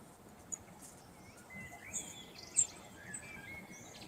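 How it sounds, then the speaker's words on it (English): Faint, distant bird chirps, a few brief calls scattered over a steady low background of insect or cricket hum in a quiet outdoor setting. "I got birds chirping here."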